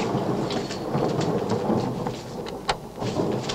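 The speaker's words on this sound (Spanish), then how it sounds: "Vaya tormenta que se avecina." Steady heavy rain hisses throughout a thunderstorm, with a sharp crack of thunder near the end, loud and constant with no voices.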